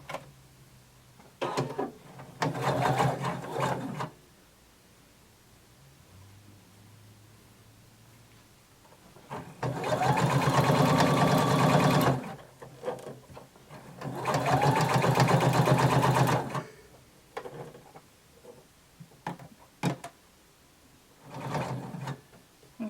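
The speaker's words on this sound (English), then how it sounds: "I'm going to place my needle close to the edge, and I'm going to sew just past the vent opening." A sewing machine stitches a tapered skirt in several long motor runs separated by pauses, each run a steady whirring buzz that is loud and close with nothing else playing over it.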